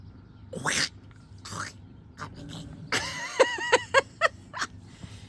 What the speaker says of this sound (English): Cat went crazy.